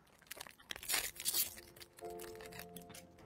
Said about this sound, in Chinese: 那我接下来就拆开让大家来感受一下它好不好